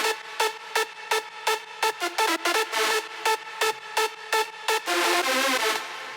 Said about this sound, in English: this is kind of like the main drop lead